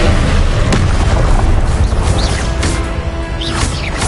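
A burst of fire from the Confringo spell in Hogwarts Legacy: a loud, dense boom opens the sound, and crackling, rumbling blasts carry on continuously for about four seconds with no talking.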